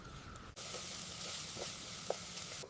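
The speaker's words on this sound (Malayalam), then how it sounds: "വേറൊരു പാനിൽ 1 കപ്പ് തേങ്ങ, ഇഞ്ചി, വെളുത്തുള്ളി, കറിവേപ്പില എന്നിവ ചേർത്ത് നന്നായി മൂപ്പിച്ചെടുക്കാം." Grated coconut, ginger, garlic and curry leaves fry in a pan for an onion theeyal, giving a steady close broadband sizzle with a sharp dip near the half-second mark and a few faint stirring clicks, no talking.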